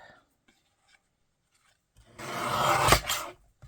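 Scissors cutting a half-inch strip of cardstock for paper grass: one sustained rasping cut of about a second and a half, close and fairly loud, after near silence.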